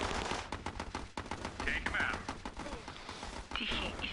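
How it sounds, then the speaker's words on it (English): Rapid gunfire from the strategy video game Battle Islands Commanders crackles in dense repeated bursts over a busy battle din, with sniper shots among the exchange and no clear speech. "And Jim Bishop Jones replies with a sniper of his own."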